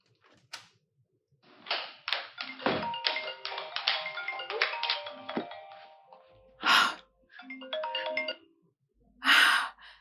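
A mobile phone rings indoors with a repeating electronic melody in bursts, pausing and starting again, with soft breaths and a gasp between the rings.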